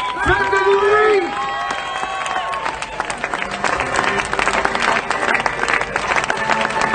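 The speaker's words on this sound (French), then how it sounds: "Applaudissez-la bien fort. Faites du bruit." A crowd applauds and cheers a runner finishing a 105 km ultra trail race at Volvic, a mix of loud, dense clapping and cheering. An amplified announcer's voice speaks over the start.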